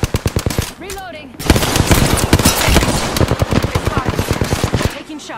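Rapid automatic weapon fire in Apex Legends, loud close bursts of evenly spaced shots running almost continuously, with a brief lull near the start, and a voice speaking faintly underneath.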